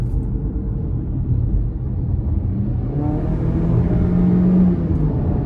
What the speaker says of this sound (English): we'll try to give it a little bit of throttle here